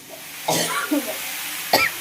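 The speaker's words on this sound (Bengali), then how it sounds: "কাশি" Two sharp coughs from a person in a home kitchen, the first with a short rough trail and the second coming alone a moment later against quiet room tone.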